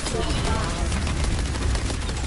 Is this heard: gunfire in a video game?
yes